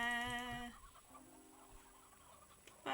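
Chickens in the video game Slime Rancher 2 give a few short, near clucks and warbling calls at the start, then fainter clucking over a quiet ambient game background.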